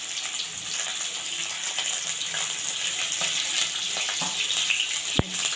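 Urad dal, dried red chillies, fenugreek seeds and onions fry in hot oil for Rayalaseema pachi pulusu, giving a steady close sizzle with a single sharp click near the end.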